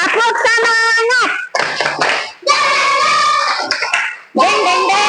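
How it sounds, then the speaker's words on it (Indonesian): A class of children claps hands together in a rhythmic clapping game, bursts of claps mixed with loud children's chanting and voices close by. "kita tepuk tangan semuanya"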